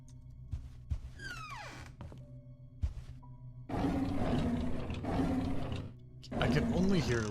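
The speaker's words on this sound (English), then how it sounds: "I can only hear a lion every time one of these doors opens." In a video game, a door opens with mechanical clunks and a ratcheting creak, then a loud lion roar rises and swells, followed by another roar; a voice speaks over parts of it.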